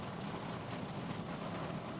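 Rain falling in the video game Dying Light 2, a steady, even hiss of downpour that holds unbroken at moderate level throughout, with no voices.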